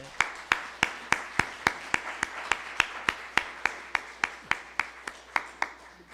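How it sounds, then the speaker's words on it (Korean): Steady, evenly spaced hand claps repeat about three times per second, crisp and close, with no other sound around them, during a church service. "박수하겠습니다"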